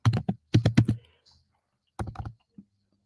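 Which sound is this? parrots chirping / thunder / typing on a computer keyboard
typing on a computer keyboard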